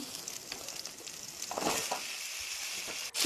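Chopped vegetables frying with salt and turmeric after tomato has gone in, a quiet continuous sizzle with a few scraping stirs swelling midway.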